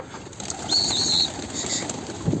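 A tumbler pigeon flaps its wings in a brief close burst and gives soft coos, with a faint chirp and low background noise.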